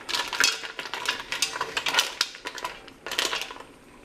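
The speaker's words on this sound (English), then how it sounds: "Gentle stir." Mussels in white wine being stirred in a metal pot make bursts of close shell clatter and scraping, clicking and rattling in uneven waves with short pauses between strokes.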